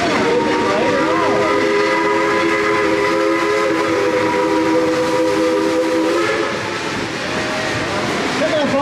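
A steam train at Dollywood theme park chugs loudly nearby while its whistle sounds in a long, sustained multi-tone blast that wavers and fades slightly near the end.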